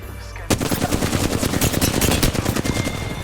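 Rapid automatic gunfire in Apex Legends bursts in after a brief quiet moment and continues as a dense, loud, close string of shots with no talking.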